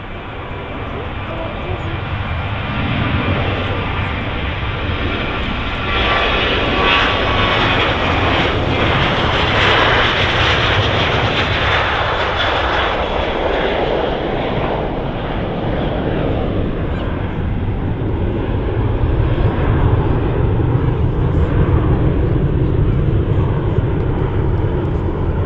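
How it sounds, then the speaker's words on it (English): A Jet2 Boeing 737-800 airliner departs Manchester Airport with a loud, steady jet-engine roar that rises and holds across the whole stretch, with voices faintly present at times. "And just departed there was a Boeing 737-800 of Jet 2."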